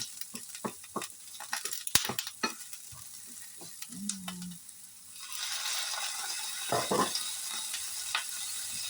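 Chopped onions frying in a pan for Filipino guisado, soft sizzling that swells into a steady hiss, with stirring clicks and scrapes of a utensil early on.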